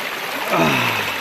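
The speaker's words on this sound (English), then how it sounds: "the water's flowing pretty hard" Fast-flowing water of the San Gabriel River's East Fork rushes steadily close by, a dense broadband roar with a slight swell midway.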